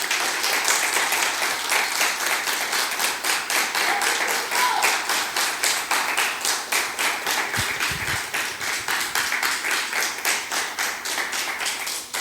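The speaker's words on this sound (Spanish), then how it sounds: "Den un fuerte aplauso al Señor" A church congregation claps loudly in a steady, unison rhythm, a sustained run of regular beats filling the room for over ten seconds with a brief low rumble partway through.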